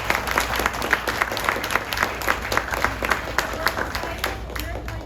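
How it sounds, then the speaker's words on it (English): Audience applause for guests at a live Chicago show event, steady clapping of a modest crowd throughout, with scattered individual claps standing out. "Let's give our guests a round of applause"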